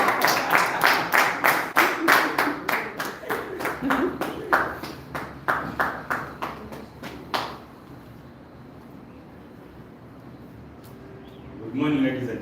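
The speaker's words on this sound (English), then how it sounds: "Give him a round of applause." An audience claps in a brisk burst of applause for several seconds, then it cuts off into quiet room tone before a voice begins.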